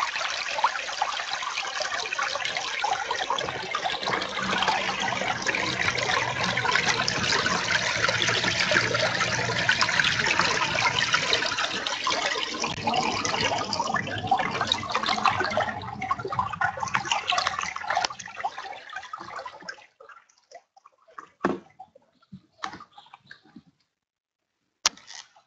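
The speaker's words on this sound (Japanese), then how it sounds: "せせらぎがありましたね。" A babbling stream gives a steady broad rush of flowing water for most of the stretch, then drops away into faint scattered splashes and ticks near the end.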